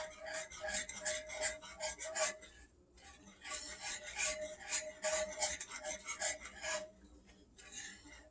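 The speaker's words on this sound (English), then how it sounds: "now let's whisk that in here until it's mixed well" A whisk scrapes rhythmically through a Dijon sauce mixture for chicken thighs, quick repeated strokes in two bursts separated by a short pause, close and fairly quiet with no voice.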